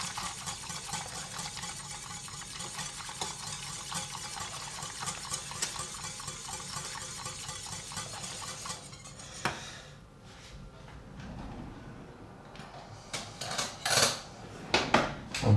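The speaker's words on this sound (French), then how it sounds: "Et là je vais fouetter quelques secondes pour bien homogénéiser le mélange." A whisk beats a melted chocolate mixture in a bowl, with rapid rhythmic clinking and scraping against the sides for several seconds, then quieter, sparser taps and knocks toward the end.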